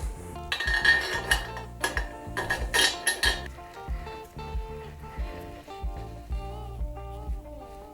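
Metal hardware clinks and rings while a through bolt is fitted into a center console boat leaning post, with a cluster of sharp taps and clanks followed by softer ringing knocks.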